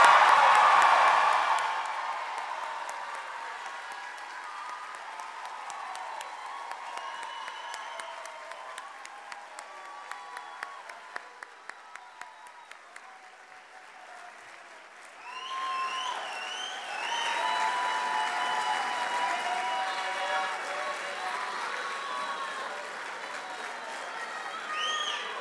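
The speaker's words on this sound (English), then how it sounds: "Let's raise the roof with a cheer for Claudia." A graduation awards ceremony crowd at Augsburg University applauds and cheers loudly, with sustained clapping and whoops that dip briefly mid-way and then swell again in a broad, steady roar.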